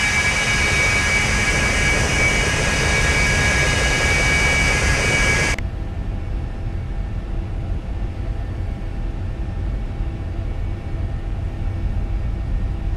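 Simulated jet engine thrust roars from a Cessna Citation in the X-Plane 11 flight simulator, a loud, steady broadband rush that abruptly drops to a duller, lower drone midway through, with no voices.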